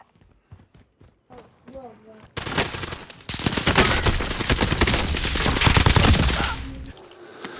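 Rapid automatic gunfire in Call of Duty: Modern Warfare, a loud sustained burst of shots lasting several seconds after a few scattered voices and clicks, then cutting off into quiet.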